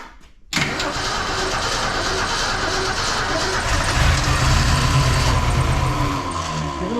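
A 1973 Mercury Comet, parked for 29 years, cranks and catches, then settles into a loud, steady idle with a low exhaust rumble that swells slightly toward the end.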